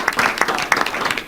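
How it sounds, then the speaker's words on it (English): An audience claps for student presenters at an alumni event, a short burst of dense, steady applause from a room full of people. "I would like you to join me in giving an applause to these wonderful students for answering your questions"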